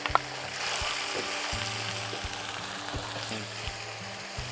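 Tomatoes, onions and green chillies fry in a pan for Kerala-style chicken chukka, a continuous close crackling sizzle broken by repeated spoon scrapes and stirring knocks at an uneven rhythm.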